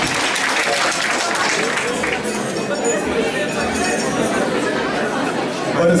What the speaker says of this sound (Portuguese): São palmas para o grupo do Resto Alcólico e o Tráfico da Vila Dias